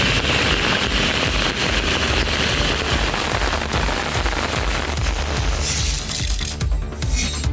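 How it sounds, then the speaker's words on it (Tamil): Heavy rain pours down across rural areas of Dharmapuri district in Tamil Nadu, a loud, dense, continuous roar of drops with no pauses, easing slightly near the end. "தருமபுரி மாவட்டத்தில் நல்லம்பள்ளி, பாப்பிரெட்டிப்பட்டி, ஒட்டப்பட்டி உள்ளிட்ட பகுதிகளில் மழை வெளுத்து வாங்கியது"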